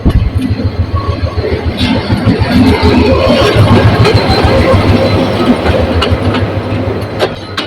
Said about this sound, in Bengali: ফাইনালি আমি ট্রেনে চড়ে বাড়ি যাচ্ছি